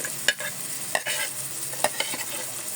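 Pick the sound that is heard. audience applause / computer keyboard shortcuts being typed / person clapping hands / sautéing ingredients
sautéing ingredients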